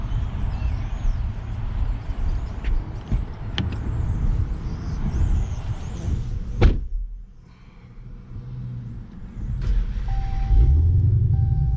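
A 2018 Dodge Challenger Hellcat Widebody gives a deep, loud, continuous engine rumble heard up close. Near the middle there is a sharp thump, a brief quieter stretch, and then the rumble swells again.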